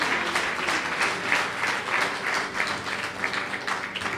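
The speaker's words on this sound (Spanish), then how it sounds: "Dale un fuerte aplauso al Señor." A church congregation gives a strong round of applause during a Spanish-language service, steady dense clapping filling the room without a break for several seconds.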